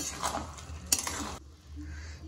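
A spoon stirs grated carrot and sugar for gajar ka halwa in a pan, scraping and clinking against the metal for about a second and a half before settling into a soft sizzle.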